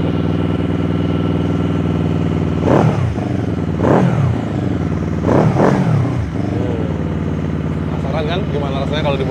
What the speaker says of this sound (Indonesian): Ini knalpot standar ya mas bro, jadi suaranya udah blar-blar.